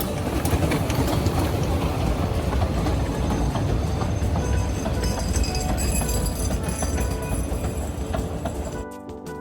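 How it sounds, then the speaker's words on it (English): A Talyllyn Railway train leaves Talyllyn station, rumbling steadily with mechanical engine noise and rhythmic clatter, loud and continuous, fading slightly at the very end. "we were lucky enough to beat the train to Talyllyn, where I managed to catch it leaving"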